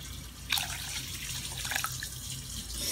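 Water is poured into a pot of toasting rice during cooking, a light trickling and splashing with a few brief drips, heard quietly close by.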